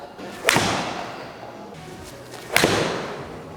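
Two golf shots struck with a PXG 0211 7-iron, each a sharp crisp impact thud, the strikes about two seconds apart and close by, with no talk over them.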